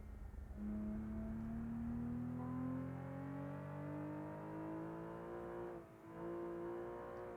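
A racing car in BeamNG.drive on the Nürburgring holds a loud, steady engine drone whose pitch climbs gradually through the gears, dips briefly near the end as it downshifts, then carries on alone without talk.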